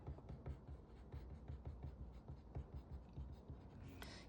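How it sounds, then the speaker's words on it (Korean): A glitter pen scratching across paper, quiet rhythmic strokes in short bursts, close and faint with no talking. "펄도 한번 써볼게요."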